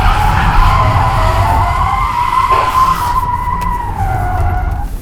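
A Tesla Model 3 in track mode, set to rear-wheel drive, spins donuts with its tires squealing in a steady, loud, wavering screech that dips briefly and swells again across the whole stretch.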